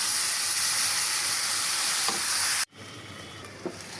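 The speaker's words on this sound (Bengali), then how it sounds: "মশলাটা কষাচ্ছি, এখানে ছোলা রান্না করব।" Spices with ginger, garlic and onion sizzle and fry in a pan, a steady close hiss that cuts off abruptly partway through, leaving quieter crackles and light stirring.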